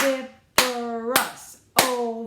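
Three sharp hand claps with an overlapping voice, spaced about half a second apart, marking out the syllables of a word in an even rhythm.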